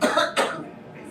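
Two quick, harsh coughs sound close by, followed by a softer trailing breath, during an indoor talk at a university event.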